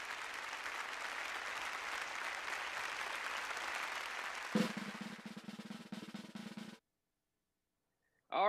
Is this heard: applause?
yes